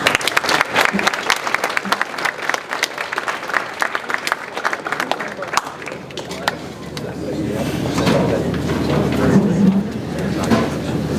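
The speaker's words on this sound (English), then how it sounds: "let's give her a round of applause" An audience claps in a dense, sustained burst of applause that gradually thins into crowd murmur and chatter near the end.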